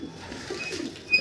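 Pigeons in a loft giving soft, low coos against quiet background ambience, faint and somewhat distant.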